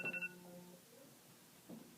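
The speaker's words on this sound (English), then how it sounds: "That's my timer." A timer gives a quick run of electronic beeps during a crochet session, lasting under a second near the start, followed by quiet room tone with no talking.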